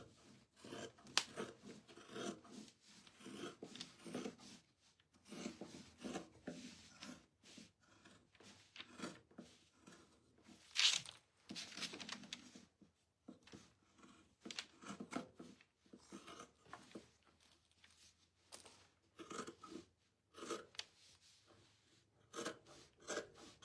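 Scissors cut through thrift-store material in a string of quiet snips and rustles, spaced irregularly with brief pauses between strokes, and nobody speaks.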